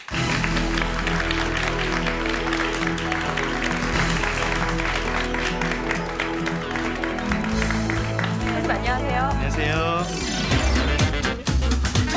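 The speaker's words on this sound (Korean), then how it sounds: "부산 저령초등학교 이재명 선생님 박수로 맞이해주세요" An audience claps and cheers to welcome a speaker to the stage. The applause is dense and steady throughout, with music playing underneath it.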